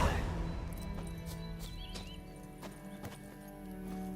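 Hooves of Roach, a horse in the video game Witcher 3, clip-clop at a gallop alongside a brief whinny, close and clear over a soft game soundscape with a faint voice.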